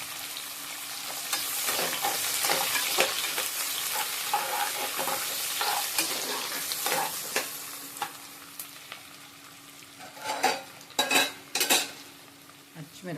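Onion, green chillies and curry leaves fry with a steady sizzle in a pan. A spoon stirs and scrapes against the metal, and sharp clinks of utensil on pan grow louder toward the end.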